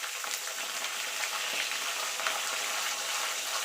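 Hot oil in a pan sizzling steadily around a fish head with spinach, turmeric and salt over a lowered gas flame, a soft continuous crackle with faint stirring taps, no voices.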